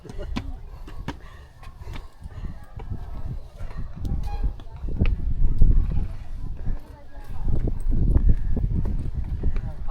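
Rhythmic hoof clip-clop of a horse on a hard surface in Baguio City, Philippines, steady and fairly close, with background voices and street noise mixed in.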